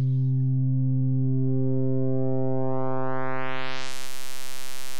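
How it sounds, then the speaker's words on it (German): A steady Bitwig Phase-4 synth tone starts as a pure sine and gradually grows harsh and buzzy as pulse-width distortion turns it into a pulse wave, loud and unbroken throughout with no voices. "Pulse Width, Sinuswelle wird zu einem Puls."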